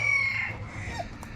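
Backyard farm chickens cluck and crow nearby, a rooster-like call leading into softer clucks over a low steady background hum.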